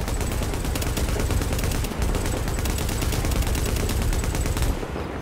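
Sustained automatic gunfire in The Division, a dense unbroken stream of rapid shots lasting several seconds, loud and close, with one brief gap near the middle and no talk over it.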